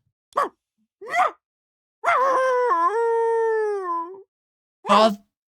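A dog in a video game lets out two short yips, then a long mournful howl held for about two seconds, followed by another brief yelp, each sharply separated by silence.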